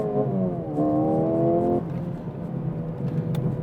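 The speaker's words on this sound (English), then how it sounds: "So now I'm just on the red line in second." A Mercedes-AMG CLA35 engine holds near redline in second gear with a steady, strained high rev from inside the cabin, then drops to a lower drone as the note eases off.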